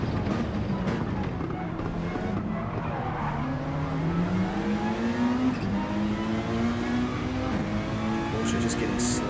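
A Porsche GT3 Cup race car in a video-game race at the Red Bull Ring holds a rising engine note as it powers out of a turn, with brief tire squeal and a commentator talking over it.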